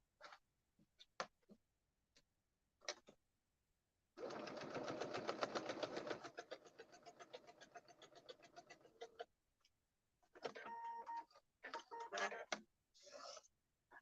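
Sewing machine stitching a quilt block by foundation paper piecing, a fast, even needle rattle running for about five seconds, then fading lower, between short bursts of nearby shuffling and handling noise.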